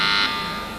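A quiz show time buzzer sounds loud and close as a single steady electronic tone that holds briefly, then drops in level and trails off under a faint hum.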